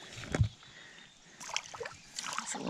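Water sloshes and splashes in short bursts as worm bait is rinsed by hand in a shallow river, close and fairly quiet against faint outdoor background.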